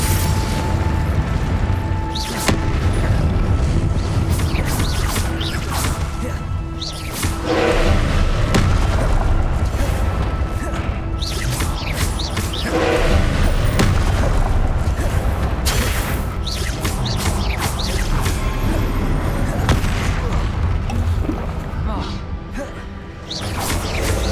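Confringo blast spells go off in a Hogwarts video game, a dense, continuous rumble of booms and bursting thuds that stays loud throughout, with voices calling out over the din.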